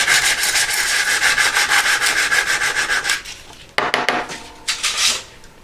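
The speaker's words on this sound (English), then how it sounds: "Just get coarse buff stick." Coarse buff stick rubbed rapidly back and forth on a nail, a dense rhythmic scratchy rasp for about three seconds, then a pause and a few shorter bursts of strokes, close and with no talking.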